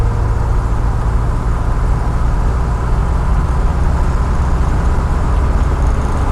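A 1976 Pontiac Firebird engine droning steadily from inside the car on a test drive, a loud continuous low rumble with road noise and no clear break for the gear change.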